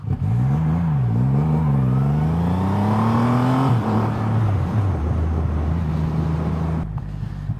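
A Triumph Rocket 3R motorcycle engine pulls hard up a highway on-ramp, its loud, deep drone rising in pitch through a gear change and then settling into a steady cruise, up close with wind noise.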